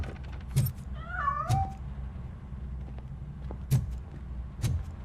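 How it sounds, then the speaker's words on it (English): A cat meows once in the video game RoboCop: Rogue City, a short wavering cry set against a low steady rumble, with several sharp metallic footstep-like thuds spaced across the scene. "That cat must be hiding inside."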